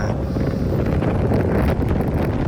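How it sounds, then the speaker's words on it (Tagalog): Strong wind buffets the microphone on Mt. Kulis in Tanay, Rizal, in a constant, loud roar with rumbling gusts throughout. "napakalakas ang hangin"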